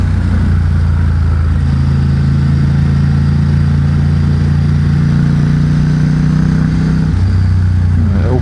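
A 2021 Ducati XDiavel Dark motorcycle with a Vandemon exhaust fitted with dB killers rumbles loud and close with a deep, steady engine drone, holding a constant pitch before dropping slightly near the end.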